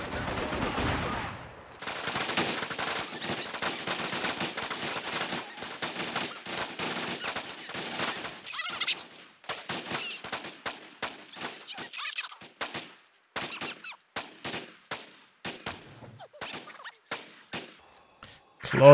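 Close-range infantry firefight between conscripts and Osttruppen in Company of Heroes 2: dense overlapping rifle and machine-gun fire roars continuously at first, then thins into scattered sharp individual shots and bursts toward the end.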